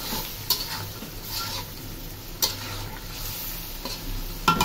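Singh fish curry frying in a pan while being stirred: a steady soft sizzle with intermittent scraping and clinks of the spoon against the pan, close and fairly quiet.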